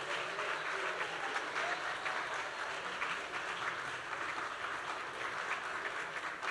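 Wedding guests applaud in a steady, dense wash of clapping that fills the room evenly from start to finish, loud and sustained with no voices rising above it.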